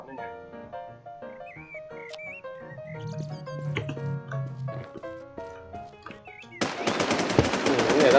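Gunfire in the game Infestation The NewZ, a sudden loud rapid burst near the end that follows quieter in-game tones and sounds, with someone talking over it.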